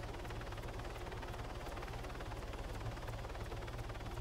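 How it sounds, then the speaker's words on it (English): Helicopter in the military game ArmA 3 on Altis, a steady low rotor thump and engine drone holding at an even, moderate level throughout without talk. "The helicopter is 2 kilometers away,"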